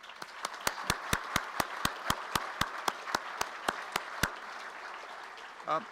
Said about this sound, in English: a round of applause to our international students